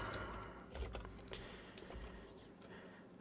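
Code being typed on a computer keyboard, a brief flurry of soft key clicks, faint and nearby over a steady background hum, with no one speaking.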